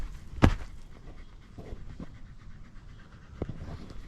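Dogs panting and moving about on dusty dirt ground under a tarp outdoors, quick soft breaths close by with a few louder bursts and light shuffling.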